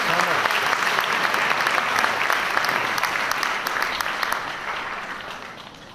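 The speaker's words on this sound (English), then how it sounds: "Give them a big round of applause" Sustained applause from a seated audience honouring graduates at a ceremony, a dense even patter of clapping that fills the whole stretch and tapers slightly toward the end.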